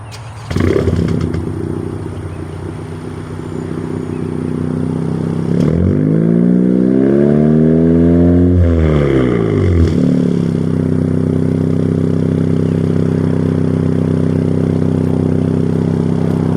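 A Honda Civic Si engine cranks and catches, settles into a steady idle, then revs up and back down before returning to a smooth, loud idle, close by with no talking.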